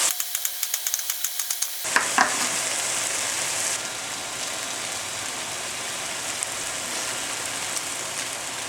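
Eggplant stir-fry sizzling in a pan, after a short opening of faint rhythmic ticking a dense, steady sizzle takes over with a brief louder crackle, heard close and alone.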